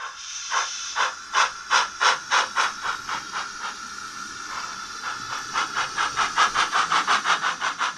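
A preserved SE&CR O1 steam locomotive, number 65, at the Spa Valley Railway, chuffing in a rhythmic series of sharp exhaust beats that slow briefly and then pick up again, with steady hissing steam underneath.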